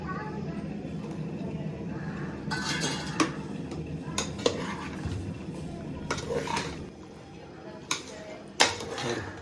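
Vegetables and mushrooms stirred in a pot for homemade vegetable pulav, with repeated scraping and clinking of a utensil against metal, plus a short sharper clank near the end.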